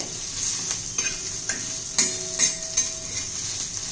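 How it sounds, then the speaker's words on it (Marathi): Peanuts dry-roasting in a pan, stirred with a spoon: a soft continuous sizzle broken by sharp clinks and scrapes of metal against the pan at irregular intervals, close and without speech. "दहा बारा शेंगदाणे घालून घ्यायचे ते चांगले भाजून घ्यायचे"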